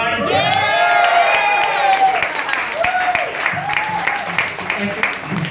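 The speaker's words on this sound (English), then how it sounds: "Once again, a round of applause, please, for Mike Chua." A comedy club audience applauds a stand-up comedian with loud, sustained clapping and some whoops, while cheerful shouting voices ring out over the crowd.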